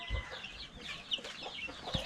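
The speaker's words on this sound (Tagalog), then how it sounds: "Ito yung mga manok natin." Several chickens cluck and murmur close by in a steady, busy chatter, with soft scratching underneath.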